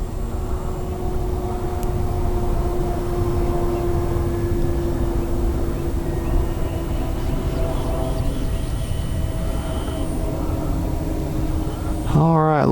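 An E-flite CZ T-28 RC model airplane on a landing approach, its electric motor a steady droning whine heard at a distance that holds level throughout, with a brief rising sweep at the very end.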